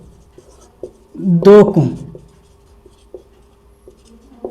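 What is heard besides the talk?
pen writing maths equations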